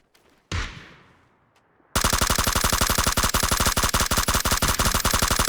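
Gunfire in a shooter video game: a single sharp shot with a decaying echo, then a long, loud, rapid burst of automatic fire in an even rattling rhythm to the end.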